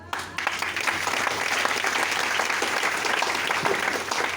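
An audience at a DXN branch meeting in Patna claps steadily. The applause is dense and continuous, fairly loud throughout, with a faint low hum underneath.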